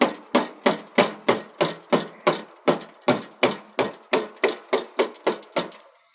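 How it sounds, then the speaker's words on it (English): A mallet taps the corroded rod of a split axle bearing unit in a steady series of about sixteen sharp, evenly spaced knocks, close and clear with no talk. "you might have to use your trusty mallet just to give it a little tap, just to shock it to get it going"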